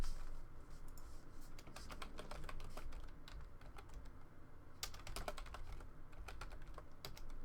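Rapid typing on a computer keyboard at a Magic: The Gathering tournament finals, with dense bursts of key clicks running steadily throughout and no voices.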